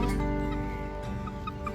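Chickens clucking softly nearby, a few short low clucks over a steady background hum, no talking.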